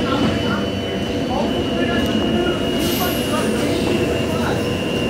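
A metro train rumbles through Jesmond Metro station, a sustained loud rolling roar with faint squeals and a brief rising whine, while a voice speaks lightly in the background.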